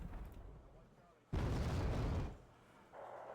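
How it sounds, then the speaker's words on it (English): Cannon fire in a war strategy video game, a single loud booming blast that lands abruptly and rumbles for about a second before fading, with quieter game sounds before and after. "Let's get a cannon in there."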